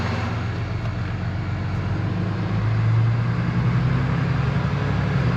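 A stock Cummins diesel pickup truck accelerates on a dyno in drive with tow/haul mode and a fourth-gear limit, its engine drone rising in a steady loud roar with no talking.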